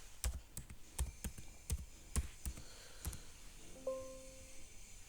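Quiet keyboard typing while entering a name in Excel: about a dozen irregular, crisp key clicks close by, followed by a short faint electronic tone near the end.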